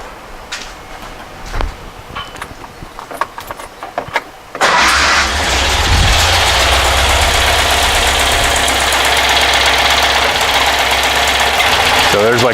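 A rebuilt Porsche 912 engine with its muffler fitted catches after a few clicks and knocks, then runs at a steady, loud, close idle with a continuous broadband rumble.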